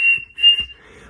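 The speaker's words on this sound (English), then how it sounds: "it sounds more like a whistle and less like breathy" A mouth whistle made while beatboxing gives a thin, steady high tone that holds, dips briefly and returns, then fades into soft breathy air with a couple of low puffs near the end.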